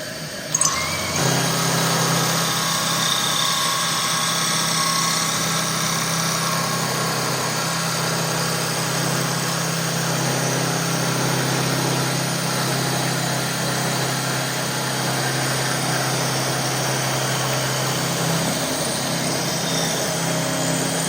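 A homemade dowel maker, driven by a power tool, cuts a wooden dowel. The loud, steady motor drone and cutting noise start abruptly and run on for about twenty seconds.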